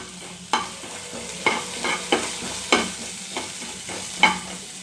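A spoon stirs and scrapes through cumin frying in a pan for Mangalore-style prawn masala curry, with about seven regular scraping strokes over a steady low sizzle, close up.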